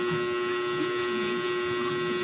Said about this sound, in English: Oh, that's my dryer.